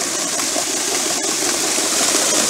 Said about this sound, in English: I'll show you this thing running here in a bit.